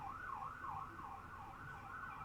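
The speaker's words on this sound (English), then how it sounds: "I apologize for the sirens." A faint police siren wails steadily in a repeating up-and-down pattern outside an open window in a downtown apartment, distant and continuous.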